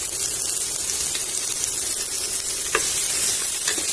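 Sliced onion sizzles loudly and steadily in hot oil left over from frying prawns, a dense, continuous crackle close up with faint scraping now and then and no voices.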